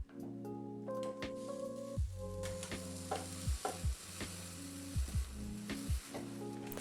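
A halved tortilla wrap cooks ungreased in a waffle iron, giving a faint sizzle with soft squishy presses and clicks, set against background music.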